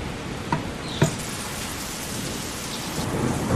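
Heavy rain from a hurricane-driven thunderstorm in an animated series, a dense continuous downpour hiss with a couple of sharp thunder cracks early on and a rumble building toward the end.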